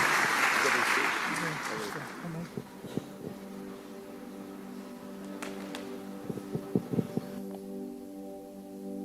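A church congregation applauds a guest during an evening service, a broad burst of clapping at the start that fades out within about two seconds, followed by scattered taps and a low tonal drone.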